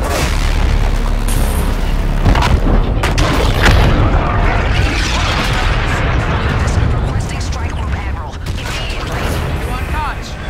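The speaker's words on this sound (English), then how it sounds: "Spectral cannon is online." A spectral cannon fires in Call of Duty Infinite Warfare, loud booming blasts and rumbling explosions that fill the whole stretch, with battle noise and a voice speaking underneath.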